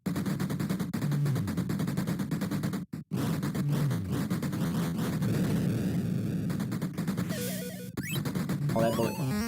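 Rapid gunfire from a retro shooting video game, dense continuous bursts of electronic shots with game music and effects, loud and close, running almost without pause except a brief gap.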